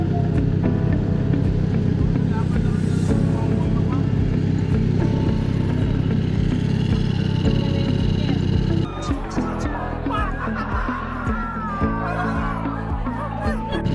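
A Triumph Trident 660 motorcycle engine drones loudly and steadily while riding through traffic, with wind rush and road noise, before the tone shifts and becomes more broken near the end.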